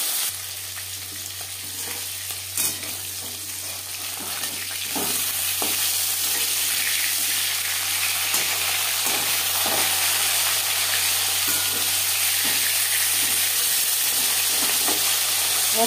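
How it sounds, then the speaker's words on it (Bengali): Fish sizzles steadily in hot refined oil for a fish curry, a continuous close frying hiss with a few soft clinks and stirring sounds. "তেল আমি গরম করে নিয়েছি। দিয়ে দেবো মাছ।"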